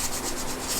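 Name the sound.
sanding a car body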